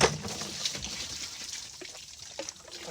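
Water trickling and splashing as it is fetched into gallon containers in a mountain setting, a steady close dribble and gush with a few small knocks, and faint bird sounds behind.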